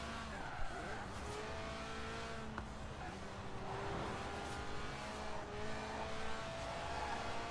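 A Lotus Elise Sport 190 with a 1.8-litre engine making 190 horsepower and revving to 8,000 RPM drones steadily in Forza Horizon 4, with faint tyre squeal and revs rising and falling under constant engine noise.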